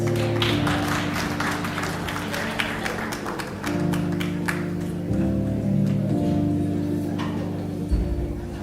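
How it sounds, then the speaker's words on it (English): Scattered applause at a teaching and learning festival as a colleague comes up to receive gifts, moderate clapping from a gathered audience beneath sustained background music with low tones. "A round of applause, please."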